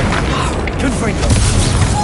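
A Confringo fire spell explodes in Hogwarts Legacy, a dense continuous roar of magical blasts and crashes under steady combat noise.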